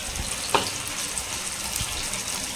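Fish frying in a pan of bubbling oil, a steady close hiss and crackle with a sharp spatter near the start, no talking.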